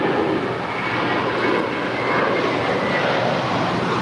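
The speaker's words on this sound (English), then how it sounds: "That was American 519 departing to Los Cabos. It's a 7-year-old Airbus A321." A seven-year-old American Airlines Airbus A321 departs LAX, its jet engines producing a steady, loud, broadband roar that holds constant throughout with no talk.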